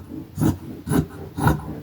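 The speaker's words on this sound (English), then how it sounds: "I'm going to cut it from this black t-shirt" Scissors snip through a black cotton t-shirt in three evenly spaced, raspy cuts, close and moderately loud, with no voices.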